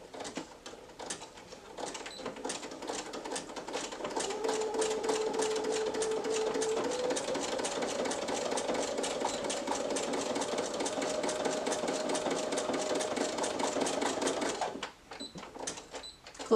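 A sewing machine stitching a fabric headband, a steady rapid mechanical chatter running for about eleven seconds close by, framed by quieter handling before and after.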